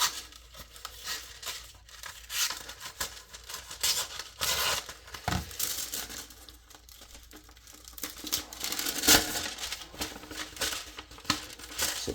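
Kershaw Iridium knife blade slicing through thicker paper close up, a long run of rasping, crackling tearing strokes with brief pauses between cuts, no talking.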